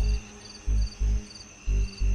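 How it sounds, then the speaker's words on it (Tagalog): Crickets chirp at night in a remote area in short, regular pulsed bursts, close and fairly loud, with a faint steady hum underneath and no voices. "Unti-unti na ring bumalik ang huni ng mga kuliglig."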